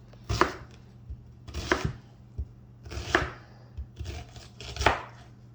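Several sharp knife strokes chop through an onion on a cutting board, landing in uneven bursts of two or three cuts with short pauses between, close and clear against a quiet room with a steady low hum.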